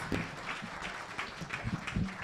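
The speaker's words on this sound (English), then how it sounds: "can we give both teams another round of applause" Brief crowd applause for competing teams at the Africa Tech Challenge awards ceremony, with scattered claps over a dense wash of clapping, moderately loud in a large room.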